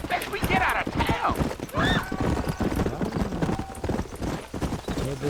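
Horse hooves clip-clop steadily and close in the Red Dead Redemption video game, a continuous trotting rhythm mixed with in-game voices and other sounds throughout.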